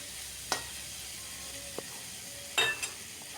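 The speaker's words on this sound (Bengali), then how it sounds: "আলুটা দিয়েও কিছুক্ষণ কষিয়ে নিতে হবে পেঁয়াজের সাথে" Fried potatoes sautéing with onions in oil: a soft steady sizzle runs quietly under a few sharp clicks and scrapes of a utensil against the pan, close and faint.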